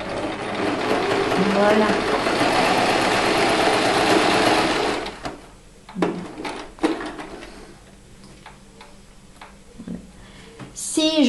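A sewing machine runs steadily and loudly for about five seconds while stitching a curve on fabric, then stops, followed by soft handling clicks and a brief spoken word.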